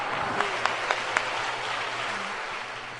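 Applause from a church congregation during a sermon, broad soft clapping with a few sharper distinct claps near the start, continuous and moderately distant over room noise.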